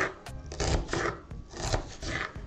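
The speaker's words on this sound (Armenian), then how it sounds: "Սոխը կտրատում ենք միջին կտորների" A knife cuts onion into medium pieces on a cutting board while cooking chicken and rice pilaf, a close series of rhythmic rasping chops, about seven strokes, with no talking.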